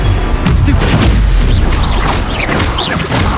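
A Confringo blast spell exploding during combat in the game Hogwarts Legacy, loud, sustained booming crashes with crackling impacts and brief whistling streaks, one dense wall of battle noise.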